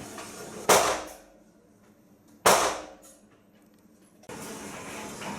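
Two sharp gunshots from a MAC50 or SIG P.49 pistol in a video game, each a loud crack with a ringing tail spaced a couple of seconds apart, followed by a steady rush of game ambience.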